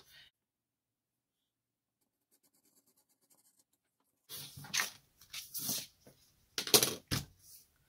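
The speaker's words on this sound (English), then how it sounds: "I'm going to take a pencil, mark a 1/2 inch mark at the bottom, mark where my fold is at the top. I'm going to run with my ruler across the edge" Pencil marking a slimline pocket card, then a ruler run along the card edge: after a quiet stretch, several close scratchy strokes and sliding scrapes come in bursts, with no talking.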